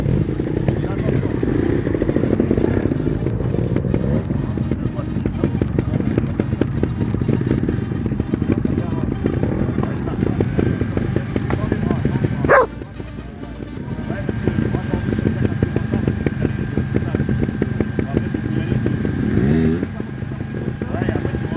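A motorcycle working through off-road obstacle training, its engine running steadily and close with a sharp clack partway through, while an instructor speaks over it.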